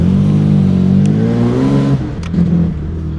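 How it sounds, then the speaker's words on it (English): A Ford EF XR6 engine runs rough after a performance chip install, misfiring as if on three cylinders, a loud close drone that holds steady and then dips and stumbles unevenly. "now I put the chip in and it's running on like 3 cylinders"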